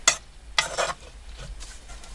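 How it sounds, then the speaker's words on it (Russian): Half-cooked pasta being stirred with canned chicken meat in a pot, giving two brief scraping stirs up close followed by quieter shuffling and a low background hum. "Здесь у меня мясо цыпленка, консервы. Бах. И размешиваю."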